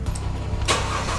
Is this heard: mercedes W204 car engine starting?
yes